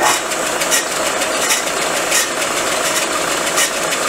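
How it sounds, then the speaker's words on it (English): A metal lathe on a 1959 BSA C15T motorcycle part project turns at a very slow speed for a light spring cut, giving a steady, continuous mechanical hum with faint periodic ticks and no talking. "I've got it set at a really slow speed and we're just going to spin it 2 or 3 times"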